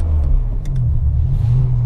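A Ferrari 550 Maranello's engine rumbles loud and close from inside the car on its first drive, a steady low drone with slight rises in revs.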